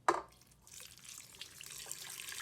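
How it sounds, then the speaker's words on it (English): Ice water poured from a container onto a batch of homemade butter in a bowl, starting with a sharp splash and then a steady close trickle and slosh. "add ice water"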